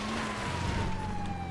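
Police car sirens wail in GTA V, a steady tone holding under a dense, noisy traffic wash and carrying on without a break.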